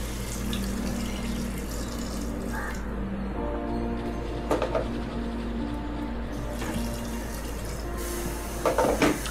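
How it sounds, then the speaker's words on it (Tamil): Water pours steadily into a pot of mutton for mutton bone soup, with a continuous splashing gurgle, alongside a low steady hum and a few light clinks. "ஓகே ஸோ இப்போ வாட்டர் ஆட் பண்ணிடலாம்"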